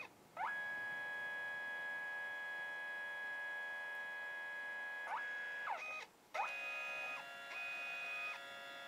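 A Kodak Mini 2 photo printer whirs through a print, a steady high motorized tone running in long stretches with short pauses and pitch shifts between passes, close and alone with no talking.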